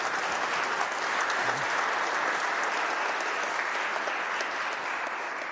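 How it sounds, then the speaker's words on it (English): A conference audience gives a warm, steady round of applause for a panel, dense and even throughout, a sustained wash of many hands from a large crowd. "I just want to say a warm round of applause for our panel here."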